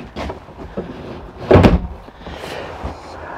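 A storage drawer slides out in a 2020 Keystone Cougar 32RDBWE RV, with a quick rolling slide and a sharp thump at the stop, plus a few lighter knocks around it.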